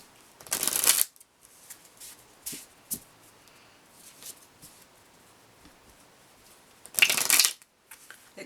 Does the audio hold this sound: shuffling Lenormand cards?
yes